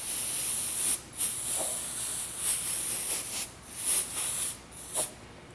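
Short bursts of canned compressed air duster spray used to blow dust off dolls, a steady loud hiss broken by several brief pauses, with a few faint handling clicks and no voices.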